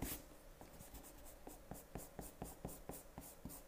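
A pencil sketch on easily erasable paper is rubbed out with quick, rhythmic strokes, roughly a dozen close scrubbing passes in steady succession with no talk.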